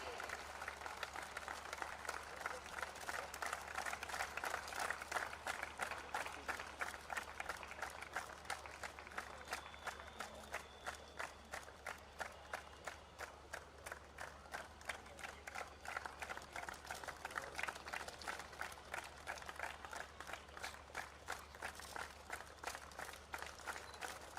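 A crowd applauds the runners-up team, Amenity Public School of CBSE, at an under-17 boys' Subroto Cup football final, with continuous rapid clapping in a rhythmic pulse and talk mixed in.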